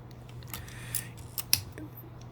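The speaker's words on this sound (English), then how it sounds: "When you release the shutter button, it will close." A couple of sharp mechanical clicks from a Minolta X-370 film camera shutter closing after a bulb exposure, brief and close, over a steady low hum.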